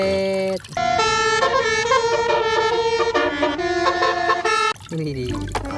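A toy bus telolet horn plays a loud, sustained musical tune whose tones shift pitch from note to note, then cuts off and gives way to lower sounds.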